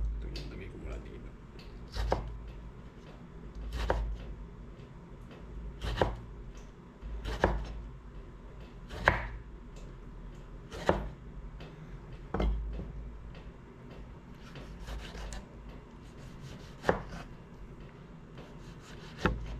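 A knife chops tomato into small pieces on a board, sharp distinct knocks at a slow, steady pace of about one every second or two, close by over a faint background.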